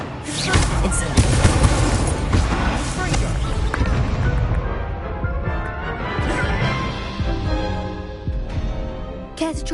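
An Incendio fire spell goes off in a magic academy video game, with a loud burst and crackling blasts up front that fade into a ringing, decaying tail, while a voice speaks alongside.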